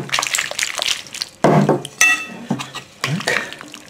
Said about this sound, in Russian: Теперь, когда маринад остыл, заливаем картошечку. Аккуратно размешиваем.